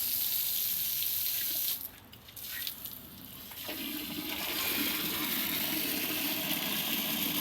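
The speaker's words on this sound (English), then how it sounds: "I'm going to put some water in there." Water pours steadily into a container as a broad, continuous hiss and splash, close and fairly loud. It dips briefly partway through, then returns fuller and lower as the container fills. No one speaks.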